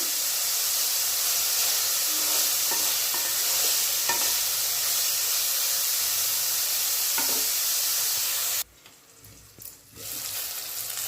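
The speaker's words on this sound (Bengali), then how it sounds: "আমি এর আগেও ঢাকা খুলে দুবার তিনবার নাড়লাম দেখুন খুব ভালোভাবে ভাজা হয়ে গেছে" Cauliflower frying in a pan hisses loudly and continuously with occasional stirring scrapes, then the sizzle drops away abruptly to a much quieter, softer background near the end.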